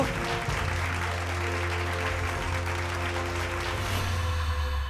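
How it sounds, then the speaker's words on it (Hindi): A crowd claps for an award presentation at the Bhojpuri Samman 2026 ceremony, a dense, steady wash of applause set over a loud, sustained low hum or music bed that runs throughout. "जोरदार तालियां इस अवार्ड के लिए।"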